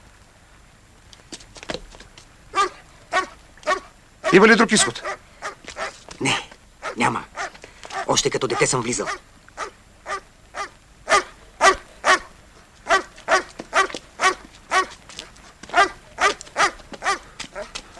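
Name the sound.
dog barking at a cave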